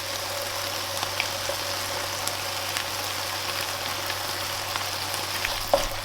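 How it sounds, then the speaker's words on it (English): Butter chicken base sauce simmering in a pan with browned meat, giving a steady, soft sizzling bubble throughout with a few small pops near the end. "we just need to simmer that for a couple of minutes"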